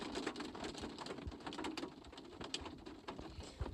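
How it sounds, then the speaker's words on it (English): Heavy rain pouring down in New York City, a dense, steady hiss of drops with scattered sharper splashes and patters throughout. "why in real life it just started raining like crazy?"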